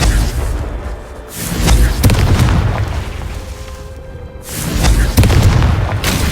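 Explosive spell blasts in a fantasy video game, two heavy booming bursts a few seconds apart, each with a sharp crack and rumbling tail over a dense, loud background.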